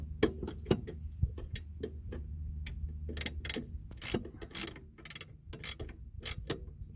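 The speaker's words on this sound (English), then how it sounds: "I'm going to tighten up these bolts first." A ratchet tightening bolts on a Cobra Jet steering fin for a 2020 Yamaha AR210 twin-engine jet boat, heard as irregular close clicking bursts with pauses between strokes.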